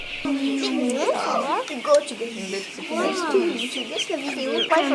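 Young chicks about six weeks old peeping and cheeping in rapid rising and falling calls, near and busy, with fowl clucks mixed in and a person talking over them.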